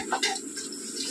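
Hot water splashes and runs briefly into a pot or vessel in a home kitchen, a short, soft gush lasting about a second.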